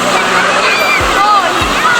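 The Rupsi waterfall gives a loud, constant rushing hiss close by, while voices talk over the steady roar of the falling water.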